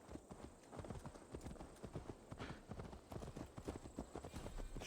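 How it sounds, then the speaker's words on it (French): Horse hooves clip-clop steadily on the ground in the Viking-era video game Assassin's Creed Valhalla, a continuous brisk rhythm of close, fairly loud impacts with an occasional faint whinny. "Il veut pas prendre son cheval, là?"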